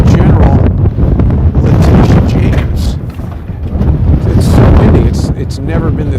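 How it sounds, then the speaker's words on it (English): Strong outdoor wind buffeting a microphone in New York City, loud continuous rumbling gusts that swell and ease, with a person speaking over it. "it's never been this windy before"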